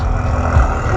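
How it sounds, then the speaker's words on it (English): A supercar with twin turbos and a loud exhaust rumbles close by at a car meet, giving a deep, steady engine drone with no voices over it. "Twin turbos and loud ass exhausts."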